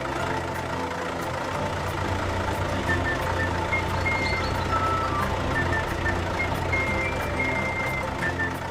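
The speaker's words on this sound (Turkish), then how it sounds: "Damperli kamyon dökülmeye hazır asfalt getiriyor." A cartoon dump truck carrying ready-to-pour asphalt to a bridge reverses with steady repeating beeps over a low rumbling diesel engine, continuous and moderately loud throughout.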